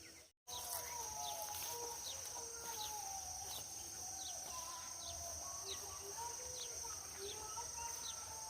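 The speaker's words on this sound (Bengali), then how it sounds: "পাখি বসে পাখির গান শুনতেছি" Birds singing in a fruit and timber garden with teak and mahogany trees, repeated chirps and short whistled calls over a steady high insect drone, faint and distant against the quiet outdoor background.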